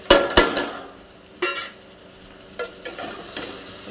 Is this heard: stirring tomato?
yes